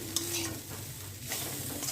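Food fries in a pan with a soft, steady sizzle and occasional stirring scrapes, fairly quiet and close, with no talking.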